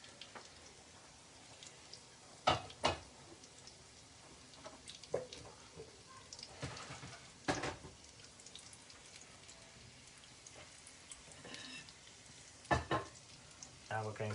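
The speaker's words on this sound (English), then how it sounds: "I'm just going to leave them to fry away nicely" Thai fishcakes frying in a pan give a steady, soft sizzle, broken by scattered sharper crackles and pops that come and go over the whole stretch.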